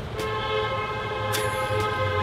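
A sustained car horn blares loudly and steadily as a comedic sound effect, holding one continuous honk for about two seconds with no speech over it.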